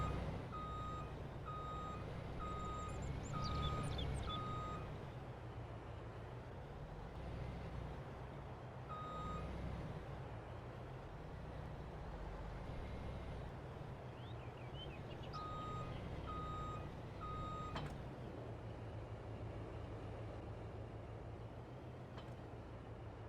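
Truck reversing beeps in the Farming Simulator 22 video game, a steady series of evenly spaced tonal beeps in two bursts over a continuous low engine drone, with no talking.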